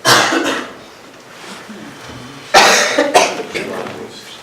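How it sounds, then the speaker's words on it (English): Several sharp coughs in a village board meeting room, one burst at the start and a louder cluster midway, close and alone with little talk. "I coughed several times."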